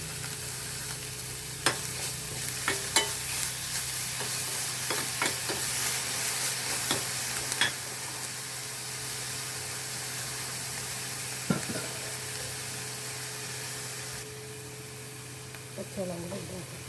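Sautéing for a Maldivian tuna curry: a steady sizzle in the pan broken by repeated sharp clacks and scrapes of a spoon stirring, with clatter near the end and a voice speaking at times.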